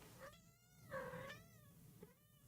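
A cat meows loudly and repeatedly indoors, three drawn-out, wavering cries with short gaps between them, close and clear with no talking over them.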